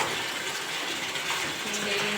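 Water gushes steadily from a hose pipe in a field being sown with coriander, a continuous, even splashing rush heard alone for a couple of seconds.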